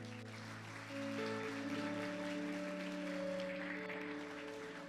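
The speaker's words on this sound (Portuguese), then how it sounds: "Você pode aplaudi-lo?" Church congregation applauding during a worship service, soft scattered clapping rising slightly over sustained organ or keyboard chords that ring underneath throughout.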